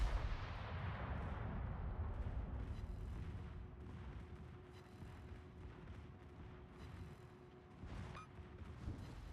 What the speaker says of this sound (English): I'd like for my guns to actually hit the enemy today, please.